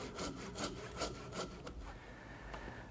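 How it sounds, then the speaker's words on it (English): A small dovetail saw makes short cuts into wood at the corners of a Victorian kitchen table, with about five quick rasping strokes in rhythm, then slower, fainter scraping, close and quiet, with no talking. "I take the trouble to use a small dovetailing saw to just cut a little bit along each corner"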